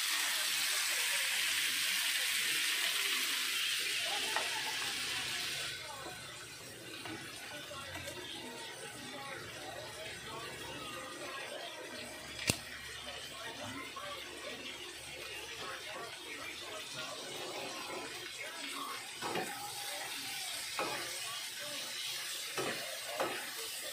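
Tomatoes frying in a pan while being stirred, a steady hiss with scraping and light clatter of the utensil, loudest at the start and continuing at a moderate level throughout.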